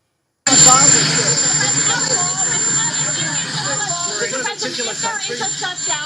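A helicopter drones steadily in the background outdoors. Someone talks over it throughout, and the rotor hum stays under his voice.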